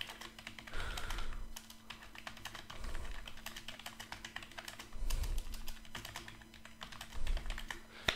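Rapid touch typing on a computer keyboard during practice on monkeytype.com: a steady stream of quick, light key clicks with occasional louder thumps, close and alone.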